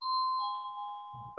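A device plays a two-tone doorbell chime, one clear ding-dong ringing out with a long decay, close and alone, followed by a brief low rumble at the end.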